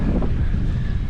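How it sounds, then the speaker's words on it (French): Steady wind buffets the microphone aboard a sailboat at sea, a constant low rush with faint water wash underneath and no talking. "Nous avons du vent, mais le problème c'est que le vent vient de là où on doit aller."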